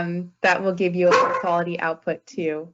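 A pet dog barks and yips indoors in short, sharp bursts, mixed in with someone talking over it throughout.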